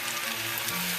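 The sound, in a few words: chicken with lime, chili and soy sauce frying in a pan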